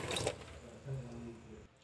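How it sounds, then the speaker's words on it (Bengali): Water splashes and trickles as green chillies are rinsed in a home kitchen for lemon pickle. The washing is soft and close, with a faint low hum beneath it. "তো আমি সেই জন্য কাঁচা লঙ্কাগুলো ভালো করে জল দিয়ে ধুয়ে নিচ্ছি।"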